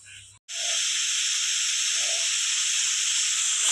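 Pressure cooker boiling dal lets off steam in a loud, steady, close hiss that starts abruptly after a brief pause and continues unbroken.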